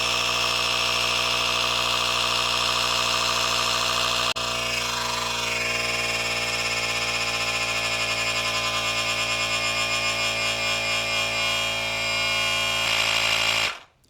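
Powools cordless tire inflator pumping up a car tire from a low pressure, a steady close mechanical drone with constant buzzing tone that runs unbroken for about thirteen seconds before cutting off abruptly.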